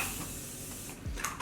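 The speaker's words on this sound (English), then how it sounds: "I forgot to spray my face." A short hiss of a fine face-mist spray burst near the end, following a steady low hiss of background noise.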